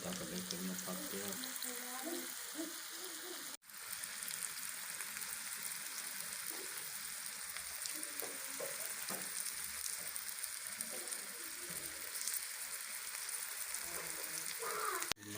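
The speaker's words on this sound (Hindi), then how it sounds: "ये कम आंच के ऊपर माशाल्लाह अंडा तैयार हो रहा है" An egg with tomato sizzles steadily in a pan over a low flame, a constant dense frying hiss that runs without a break, with a brief knock near the start and a faint clatter at the end.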